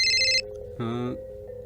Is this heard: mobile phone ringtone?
yes